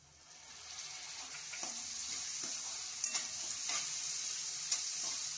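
Chopped onion and tomato fry in a pan for a soybean keema, giving a steady close sizzle with occasional spatula scrapes and stirring taps throughout.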